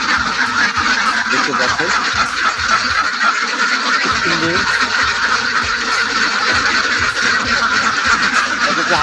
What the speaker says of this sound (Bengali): এই খামারে 550 হাঁস আছে এখানে